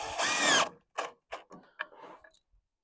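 A power drill drives 2.5 inch Deckmate deck screws into wood for a sawhorse: one long whirring burst, then several short quick bursts with clicks and pauses between them, close and without talk.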